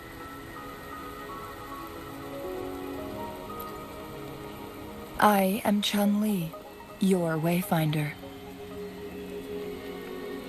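Steady rain falls throughout in the video game Wuthering Waves, a soft continuous hiss that sits under a character speaking in the middle of the scene.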